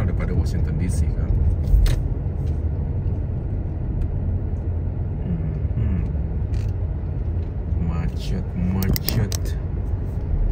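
Cars in a traffic jam on Calgary Trail, a road in Edmonton, Canada, in autumn, give a steady low rumble of engines and road noise close by, with sharp brief clicks and knocks at moments.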